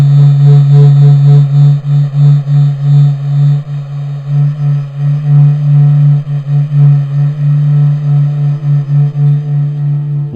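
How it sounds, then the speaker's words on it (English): Sonified NASA SOHO solar observatory data rendered as the Sun's low, steady droning hum with a slow, gentle pulsing throb, continuous and eerie with faint overtones, no voices. "What you just heard is the heartbeat of the Sun, captured by NASA's Solar Heliospheric Observatory."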